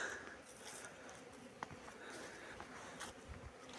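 Honey bees fly out on a winter cleansing flight around nucleus hives with young queens: a soft, steady swarm buzz, faint and continuous, with a few brief louder passes as single bees fly close.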